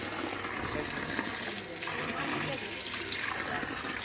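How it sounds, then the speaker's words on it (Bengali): Water from a pump pours steadily while hands are rinsed off outdoors in a garden, a continuous close splashing flow. "পাম চালিয়েছে জল পড়ছে হাতটা ধুয়ে নিলাম"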